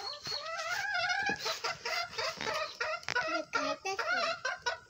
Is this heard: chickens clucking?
yes